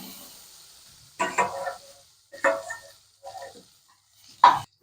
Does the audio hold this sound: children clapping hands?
no